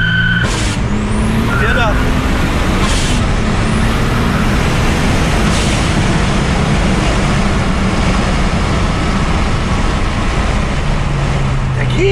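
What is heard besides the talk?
VW Golf 2 VR6 turbo engine accelerating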